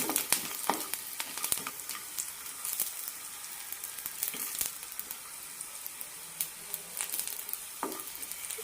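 Garlic frying in a pan for a lentil powder, a soft continuous crackling sizzle with scattered sharper pops and light scrapes, fairly quiet and without talk.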